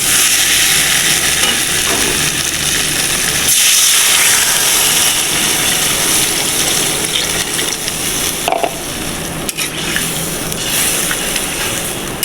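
Rohu fish curry with lentil dumplings (bori) sizzles loudly in a pan as it is stirred, giving a dense, continuous hiss with brief dips and scraping sounds.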